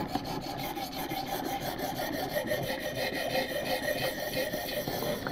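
Steady back-and-forth rasping of a knife edge drawn across a ViperSharp knife sharpener in aggressive reprofiling strokes to raise a burr, close and continuous with no voices.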